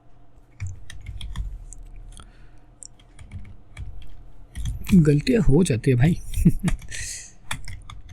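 Quick clicks of typing on a computer keyboard, entered while coding a JavaScript currency converter, run beneath someone speaking Hindi, with a denser burst of speech partway through.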